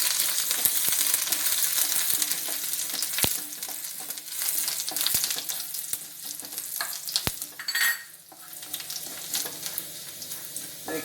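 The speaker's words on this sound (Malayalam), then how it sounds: "ഞാനൊരു പാത്രത്തിലേക്ക് തന്നെ നമ്മൾ ഇത്തിരി വെളിച്ചെണ്ണ ഒഴിച്ചിട്ട് ഇഞ്ചി ചെറുതായി അരിഞ്ഞത്," Chopped ginger and garlic frying in coconut oil in a pan, a steady bright sizzle with occasional clicks of a spatula and a brief surge of hissing near the end.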